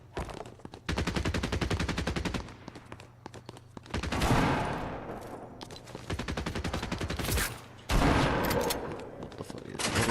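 Bursts of rapid automatic gunfire from a weapon in Fortnite, long rattling strings broken by brief pauses and a couple of heavier blasts, loud and close.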